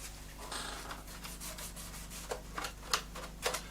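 Cloth dampened with cellulose thinners rubbed over the plastic surface of a 1/32 Trumpeter F-14D Tomcat model kit, giving faint, soft scrubbing strokes that grow more distinct and rhythmic toward the end.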